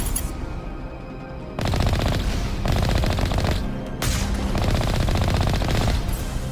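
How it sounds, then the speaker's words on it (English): Sustained rapid automatic gunfire in Mass Effect: Legendary Edition, loud, dense bursts separated by short pauses, with no talk over it. "Oh, they're shooting at me. I can hear it."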